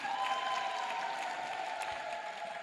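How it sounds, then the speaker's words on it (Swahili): A church congregation at a Sunday service claps together, a soft steady wash of applause heard from some distance with a faint tonal hum beneath. "Makofi mengi kwa watu wa Kahama jamani"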